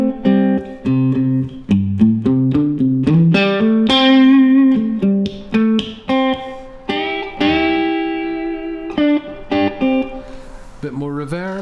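Electric guitar played through a Laney Lionheart Loudpedal, bluesy licks of single notes and bends with sustained distorted tone, loud and alone in the foreground, broken by short pauses between phrases.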